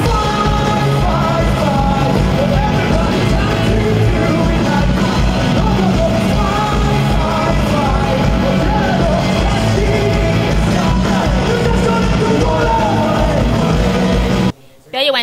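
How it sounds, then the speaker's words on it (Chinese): Thousands of fans scream nonstop at an FT Island concert in Taiwan, a loud, dense roar of yelling over booming music that cuts off abruptly near the end. "3500名粉丝尖叫声不断"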